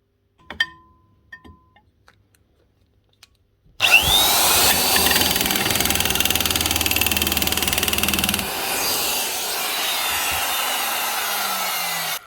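A Makita JN3200/JN3201 nibbler fitted with an old stock punch cuts stainless steel sheet. A few faint clicks come first, then a loud, steady, harsh chatter of rapid punching runs for about five seconds before easing into a quieter tail.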